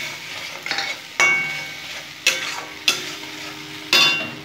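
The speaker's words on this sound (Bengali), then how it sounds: "খুব সুন্দর কষে নেব।" Egg curry masala with Kashmiri chilli and tomato frying in a pan, a soft steady sizzle broken by five sharp scraping strokes of a spoon stirring the mixture.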